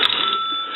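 A loosely mounted bell inside an AE three-slot payphone rings in one continuous, bright metallic trill, loud and close, holding steady for under a second.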